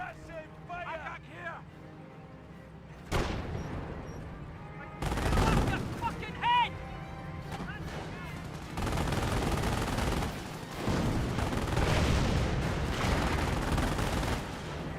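Company of Heroes match in which a British 25-pounder artillery barrage comes in: repeated heavy explosive booms and rumbling blasts mixed with battle noise, all under steady commentary from a male caster.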